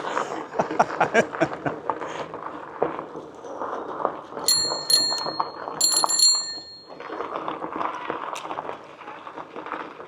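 Several quick bicycle bell rings come in two short bursts at a campsite, over a busy, noisy background of footsteps and movement.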